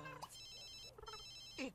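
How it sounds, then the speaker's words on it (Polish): A telephone rings in The Sims 2 with two quick electronic trill bursts separated by a pause. It sounds faint and distant, with small game noises around it. "Nie odbieraj tego telefonu."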